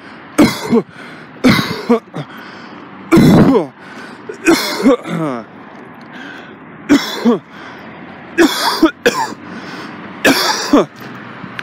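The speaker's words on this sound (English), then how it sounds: "I can cough, and it's not painful." A person coughs and clears their throat repeatedly in short, sharp bursts with pauses between, close by and loud against a quiet background.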